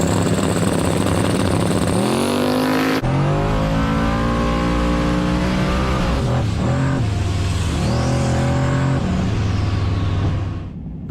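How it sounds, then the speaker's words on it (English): A Ford Falcon drag car launches hard off the starting line at a night street-racing event at Edgewater, its engine roaring loud and close as it revs through rising gear pulls before fading as it pulls away. "The Falcon actually left the starting line really well"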